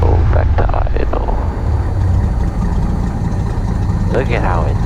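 A loud, steady light aircraft engine drones at idle in cold weather with full carburetor heat, a choppy low rumble, while voices speak briefly over it.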